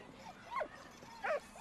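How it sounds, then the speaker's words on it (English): Two short barks or yelps from a dog in the video game Valiant Hearts, set in the First World War, spaced about half a second apart against quiet background ambience. "Oh, doggy."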